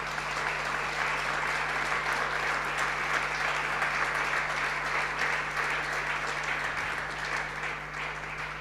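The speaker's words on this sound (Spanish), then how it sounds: "Denle un fuerte aplauso a Jesús" A church congregation at a Sunday service claps steadily for several seconds, a dense, even roar of many hands with a faint low hum underneath.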